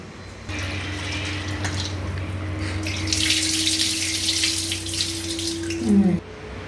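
Water runs steadily from a tap while 100 grams of dal (lentils) are washed for idli sambar, a continuous close flow with swishing and a brief clatter near the end before it cuts off.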